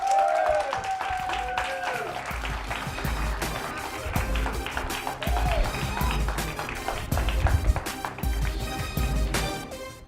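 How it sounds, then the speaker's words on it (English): A comedy club audience greets comedian Asha Ward with loud, sustained applause and cheering, along with music and crowd noise, lasting about ten seconds. "big round of applause for Asha Ward"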